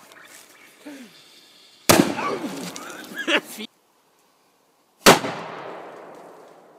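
Two sharp, loud bangs from an FP3 small (JC05) firecracker a few seconds apart, the second trailing off in a long echoing decay, with faint voices and a bird in between.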